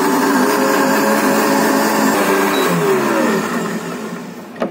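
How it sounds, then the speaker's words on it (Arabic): A covered blender whirs loudly and steadily for about ten seconds mixing iced coffee, its motor pitch shifting slightly before winding down at the end. "بعد كده بقى هنغطيه وهنسيبه يتضرب في الخلاط لمدة 10 ثواني"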